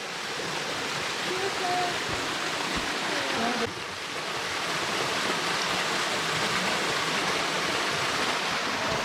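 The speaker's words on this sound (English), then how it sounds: "Waterfalls." A mountain waterfall cascades at the end of a forest trail, a steady, full rushing roar of falling water that holds unbroken throughout, with faint voices talking beneath it.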